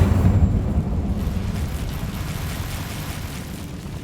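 The Incendio fire spell is cast in Hogwarts Legacy during a troll attack, a deep roaring whoosh that swells at the start and then trails off into a low rumbling decay.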